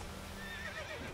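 A horse in the video game The Witcher 3 gives a short whinny, a wavering high neigh over a steady low background hum, brief and fairly close.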